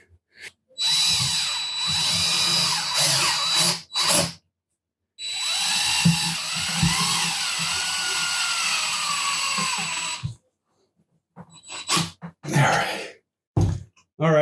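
A power drill drives screws into a cheap DIY wooden mounting frame for racing pedals, with two long, loud whirring runs followed by several short bursts, close by and with no talking.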